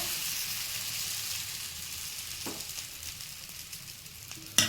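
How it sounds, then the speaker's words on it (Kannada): Millet dosa batter sizzles and fries steadily on a hot pan, a continuous close hiss with a brief clatter near the end. "ಇವಾಗ ದೋಸೆನ ಹಾಕೊಳ್ಳೋಣ"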